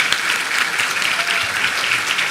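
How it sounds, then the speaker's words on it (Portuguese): A congregation at an Easter church service applauds children, a dense, sustained, loud wash of many hands clapping with no pauses for the whole stretch. "Você pode aplaudir essas crianças mais uma vez?"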